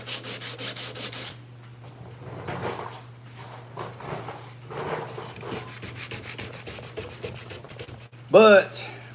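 Hand sanding rasps steadily across the hood of a 1986 Chevrolet C10 truck being prepped for paint and 2K epoxy, in repeated rhythmic strokes over a low steady hum, ending with a brief louder clunk.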